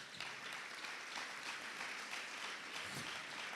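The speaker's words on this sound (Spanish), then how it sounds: "¿Cuántos aplauden al Señor?" Applause from a youth conference congregation, a continuous, fairly faint wash of many hands clapping that holds steady throughout with no speech over it.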